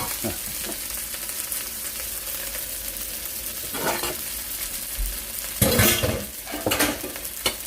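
Fried rice with a pinch of pepper flakes stirred in a hot pan: a continuous sizzle broken by scraping utensil strokes, with louder, busier scrapes and clatter near the end.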